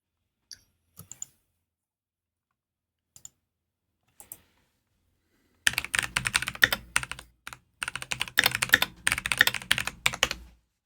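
A few scattered isolated key clicks, then a burst of fast, continuous typing on a computer keyboard, close and crisp, running for several seconds.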